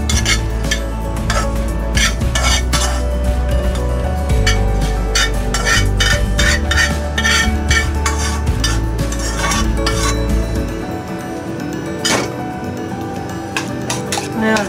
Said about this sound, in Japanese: 卵炒めました